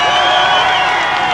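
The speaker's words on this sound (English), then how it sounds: "the crowd is on their feet" A high school football crowd cheers and roars on its feet after an extra point, Elgin Maroons against West Aurora Blackhawks; a dense, loud, steady wall of voices with whoops runs through the whole short stretch.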